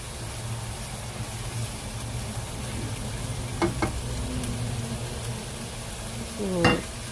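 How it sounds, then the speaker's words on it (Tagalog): Pancit noodles with chicken mixture sizzle and get stirred in a frying pan, a steady close frying hiss broken by a few scraping clicks of the utensil against the pan. "So halo lang hanggang makombine lahat."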